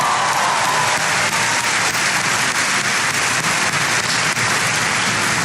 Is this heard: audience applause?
yes